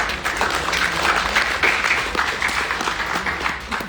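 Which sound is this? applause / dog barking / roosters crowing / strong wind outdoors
applause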